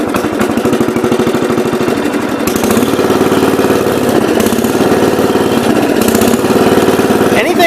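A 1970 408 lawn tractor engine running on non-ethanol fuel chugs loud and close with a steady, throbbing beat, and its pitch shifts slightly as it works.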